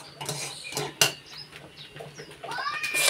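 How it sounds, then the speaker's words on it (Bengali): A spoon stirs agar jelly mixture in a pot, giving quiet scrapes and a few sharp clinks against the pot's side, with faint voices and household noise in the background. "দিয়ে এরকম নাড়তে হবে ঘন ঘন।"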